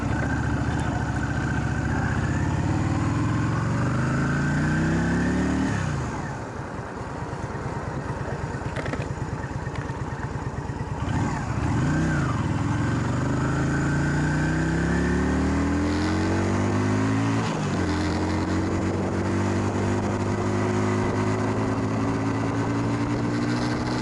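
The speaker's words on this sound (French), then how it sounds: "vous voyez qu'à bas régime, le bruit du moteur est quand même très sympa" A 125cc motorcycle engine runs at low revs while being ridden, droning steadily and close up, with the pitch rising through gears and dipping at each of several shifts.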